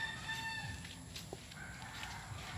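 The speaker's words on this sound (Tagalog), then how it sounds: "Ayan mga manok niya." Chickens on a farm lot in Lopez, Quezon cluck and crow faintly in the distance over a low, noisy outdoor background.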